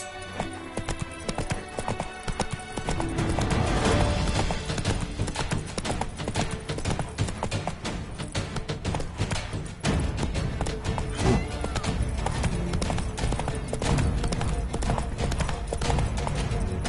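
Roach the horse galloping in The Witcher 3 video game, a rapid, steady clip-clop of hooves running close and loud throughout, with a faint neigh amid game background sound.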